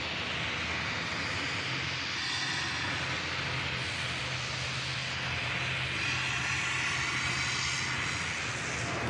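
A TUI Boeing 787 Dreamliner bound for Montego Bay accelerating on its takeoff roll at Manchester Airport, a loud, steady jet engine roar with a broad rumble and hiss that swells slightly, heard alone without talk.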